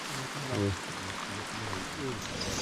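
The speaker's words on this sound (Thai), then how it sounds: "ฝนเนี่ยตกลงมาไปปลอยๆนะครับ" Rain falls outdoors onto an open view with a grassy lawn, a soft, even hiss that holds steady throughout, with faint voices underneath.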